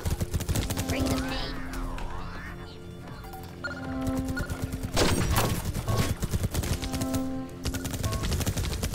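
Rifle fire rattles in a Space Marine video game battle against robots, rapid bursts running nearly throughout amid swooping effects and tonal game sounds, with speech mixed in.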